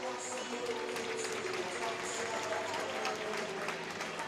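Hockey arena crowd at a college game applauding steadily for an injured player being helped off the ice, a sustained wash of clapping and crowd noise under a commentator's voice.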